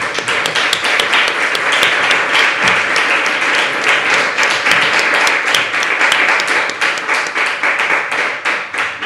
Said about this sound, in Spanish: un aplauso para la Chachi.